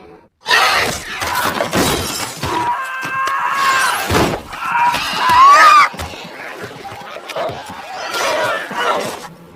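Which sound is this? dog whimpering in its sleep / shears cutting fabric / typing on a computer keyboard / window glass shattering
window glass shattering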